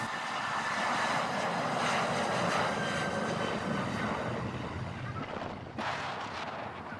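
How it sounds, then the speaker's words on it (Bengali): A loud, continuous jet engine roar fills the air as a large passenger airliner passes close by on arrival at an airport runway, steady and broad, fading slightly toward the end. "সৌদি আরবের বড় একটি ফ্লাইট চলে আসলো দেখুন বিমানটা কত বড় এবং লম্বা"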